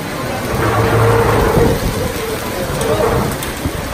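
Heavy rain and hail pound down in a loud, steady roar at an outdoor RC festival, with low rumbling and brief louder patters mixed in.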